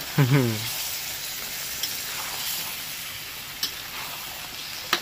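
Chicken drops into a hot pan and bursts into a loud hiss that settles into a steady sizzle, with a brief voice at the start and a few faint spatula taps later.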